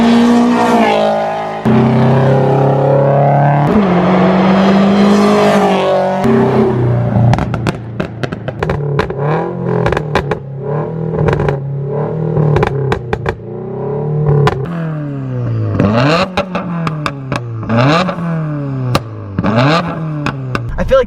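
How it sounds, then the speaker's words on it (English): A Subaru BRZ fitted with a Greddy Evo GT exhaust makes loud repeated passes, its engine revving up and down with crackling pops and rising, falling pitch as it sweeps close by and away. "I'm just gonna do a few flybys so you guys hear the exhaust."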